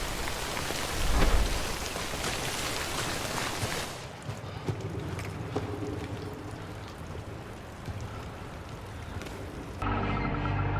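Steady rain pours through a video game city, a dense hiss of drops on surfaces that swells loudly early on, then settles into a softer continuous patter, with no talking.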